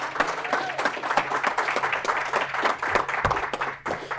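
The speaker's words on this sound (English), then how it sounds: "Let's give a huge round of applause for elementary division." An audience at a county conservation and environmental awareness speaking contest gives steady, dense applause for the elementary division, a sustained wash of many hands clapping at even loudness throughout.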